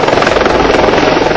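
Helicopter flying during a flood rescue in the Kedarnath valley, Uttarakhand, a loud, steady rotor chop and engine roar that fills the whole stretch without pause.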